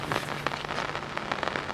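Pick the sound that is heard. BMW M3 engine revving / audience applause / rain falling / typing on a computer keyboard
rain falling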